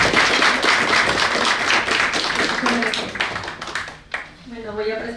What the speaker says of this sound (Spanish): pedirles un aplauso para los organizadores